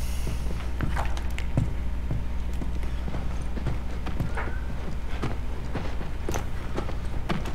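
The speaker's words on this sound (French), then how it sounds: "Allez, on retourne aux chevaux." Horse hooves clip-clop in a steady walking rhythm in The Last of Us, loud and close against a low rumbling game backdrop.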